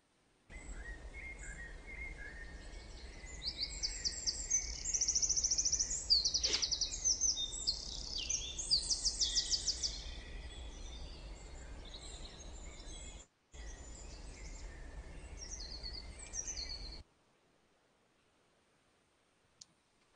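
Scattered birdsong from many birds spread through a deep forest, with no single bird dominating; faint high chirps and trills over a quiet, steady woodland background, with a brief gap before the sound fades to near silence.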